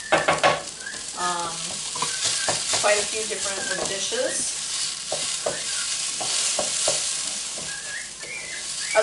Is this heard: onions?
yes